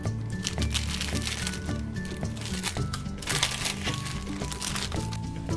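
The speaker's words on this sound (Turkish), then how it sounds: "Paketimizi açalım" A science kit package for a chemical volcano experiment is torn open, and its plastic wrapping crinkles and crackles up close in dense, uneven bursts that keep going without a pause.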